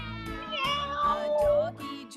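Several people in a kids' yoga session playfully imitate a cat's meow during cat pose, their voices making drawn-out, wavering, overlapping meows for about two seconds.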